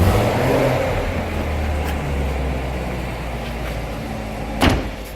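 A 2016 Chevrolet Corvette Stingray coupe, 3LT Z51, idles with a steady low engine rumble throughout, a brief sharper mechanical thunk rising near the end.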